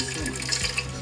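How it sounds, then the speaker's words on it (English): Water pours into a container holding a leech for an MSG test, a steady continuous splashing stream close up throughout, with no talking. "why not pour some water in?"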